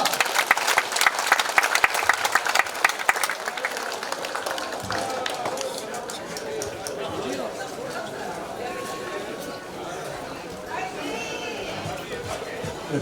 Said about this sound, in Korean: 좋은 공연으로 신나게 놀아준 우리 사물놀이팀 천주래 다시 한번 큰 박수 부탁드리겠습니다.